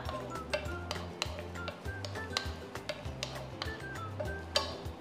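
Hotdogs frying in butter in a hot pan, stirred with a utensil, giving repeated ticks and scrapes over a soft sizzle, with a low rhythmic background hum.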